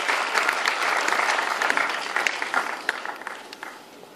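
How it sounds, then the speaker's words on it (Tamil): An audience claps in a sustained burst of applause, loud at first and gradually thinning out and fading toward the end. "அவங்களுக்கு உங்களுடைய பலத்த கரகோஷம்"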